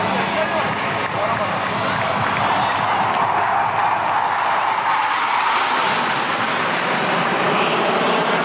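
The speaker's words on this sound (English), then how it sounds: "Hawk Mark 132 advanced jet trainer" Hawk Mk 132 advanced jet trainer flying past at an Indian Air Force air show on a beach, a loud sustained jet roar filling the whole span, with an announcer talking over it and crowd noise beneath.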